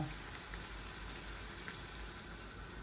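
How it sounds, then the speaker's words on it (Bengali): Water is added to a shrimp and vegetable curry cooking in a pan, giving a steady, soft bubbling and sizzling hiss that holds at low level throughout, with no voices. "এখন একটু জল দিব"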